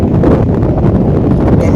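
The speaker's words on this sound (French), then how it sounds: "Il y a beaucoup de vent aujourd'hui" Strong wind buffets a microphone on a lake while canoeing in an inflatable canoe, a loud continuous low roaring rumble with no pauses.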